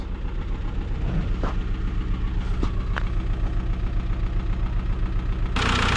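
An Audi A4 engine idles roughly and shakes while running on a borrowed fuel injector, a steady low uneven rumble with a few sharp knocks, louder toward the end.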